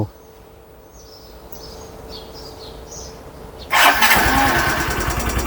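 Grand Filano scooter-style motorcycle starting on a supercapacitor: quiet outdoor ambience with faint birdsong, then the engine catches abruptly and settles into a loud, close idle.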